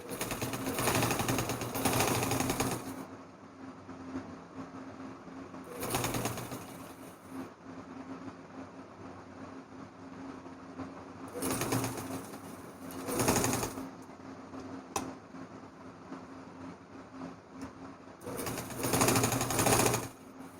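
A sewing machine stitches net onto fabric for a baby frock in slow, deliberate runs: several loud bursts of whirring needle action with quieter pauses between them, heard up close and without speech.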